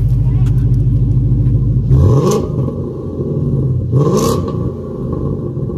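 A deep, loud Ford Mustang GT exhaust rumble idles close by, blipping twice into brief revs that swell and settle back to a steady low drone.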